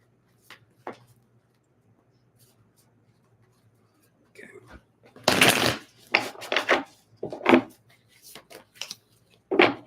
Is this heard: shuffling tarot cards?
yes